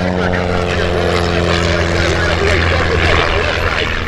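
A red and yellow biplane at EAA AirVenture Oshkosh, its engine and propeller droning loud and steady at takeoff power, with a constant tonal hum throughout.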